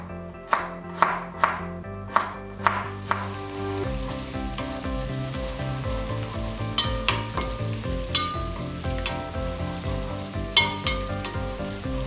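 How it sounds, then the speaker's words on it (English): Pumpkin and carrot pieces for a Spanish vegetable soup go into a pot over a strong flame and are stirred, with a run of sharp knocks and drops at first, then a steady sizzle with spoon scrapes, no talking. "Add the pumpkins and the carrots to the pot and stir very well."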